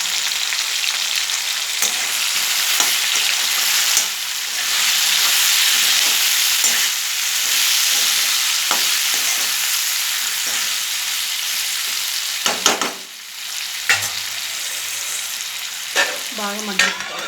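Vegetables such as tomatoes sauté for sambar in a pan, a loud, dense sizzle that stays steady throughout, broken by occasional scrapes and stirs of a utensil.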